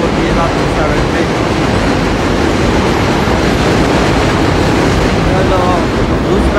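A New York subway 7 train thunders past at Jackson Heights on Roosevelt Avenue, a loud, constant roar of wheels and rattling cars filling the whole stretch, very close, with voices buried underneath.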